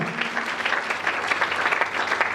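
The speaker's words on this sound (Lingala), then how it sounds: "Acclamons très fort pour le Seigneur." A church congregation applauds in a steady, dense burst of clapping that fills the hall and carries on evenly throughout.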